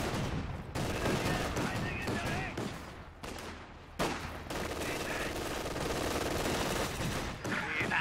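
.50 cal machine gun fire in Company of Heroes 2, a dense stretch of rapid gunfire and battle noise running almost continuously with brief dips, mixed with game sounds.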